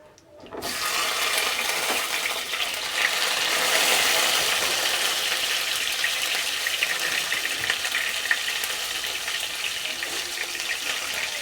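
Tomato goes into a hot pan with cinnamon, cloves and cardamom, giving a sudden burst of loud, steady hissing sizzle that holds evenly, with no voices.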